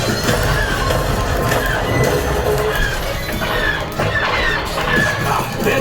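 A train sound effect rumbles through the Millennium Falcon Smugglers Run ride at Disney's Hollywood Studios, a loud, continuous mix of rolling rail noise and metallic clatter layered with other ride effects throughout.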